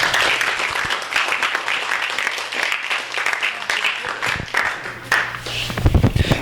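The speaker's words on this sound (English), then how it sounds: "Let's clap for him." An audience at a publishing panel applauds a speaker, a dense, fairly close wash of clapping that holds steady and then tails off, with a few voices and a low hum underneath.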